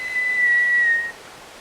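A single steady, high whistled note held for about a second, clear and close, then fading into quiet breathy background.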